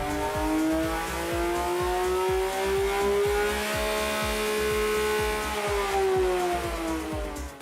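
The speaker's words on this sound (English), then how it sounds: "The car sounds superbly, especially from the inside. All mechanical sounds are clearly audible" A Porsche 911 GT3 engine revs steadily upward with a rising, throaty tone, loud and close throughout, with no talking.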